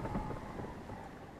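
A thunderstorm rolls over a ship at sea in the survival game Survival: Fountain of Youth: a loud, continuous wash of rain and deep rumbling thunder fills the whole short stretch, with no voices.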